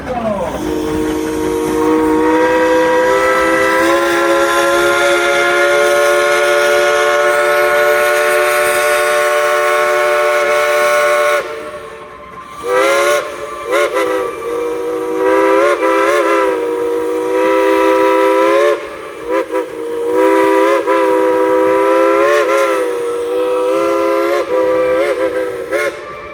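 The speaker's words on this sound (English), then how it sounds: "Would you like to hear the engineers play a tune on that Baldwin locomotive whistle?" A Baldwin steam locomotive whistle on the Dollywood Express sounds a long, loud chime for about twelve seconds, then blows a series of shorter varied toots in a tune, with steam hiss between them.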